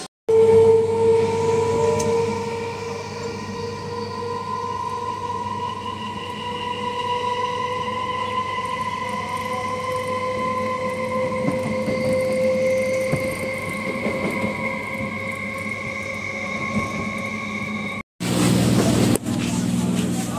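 A continuous rumbling drone of a moving train with a steady tonal hum, loud and close, cut by a brief burst of noise near the end.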